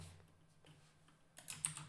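Typing on a computer keyboard while coding, a few faint scattered key clicks that bunch into a quicker little burst near the end, with no voices.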